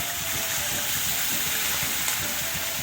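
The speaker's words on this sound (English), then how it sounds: "When the onions have come to this color, on high flame, just throw in water" Water thrown onto onions frying in a pan over high flame erupts into a loud, steady hiss and sizzle, close up and continuous, with bubbling underneath and no speech.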